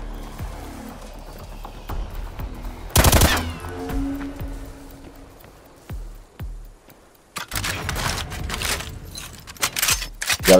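Gunfire in the video game Call of Duty Black Ops Cold War: sharp single shots and bursts of automatic fire, loud and close, with quieter clatter in between.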